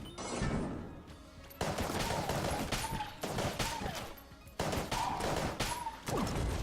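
Rapid bursts of gunfire from the top-down shooter Enter the Gungeon, with repeated volleys and short pauses between them, loud and close over busy game effects.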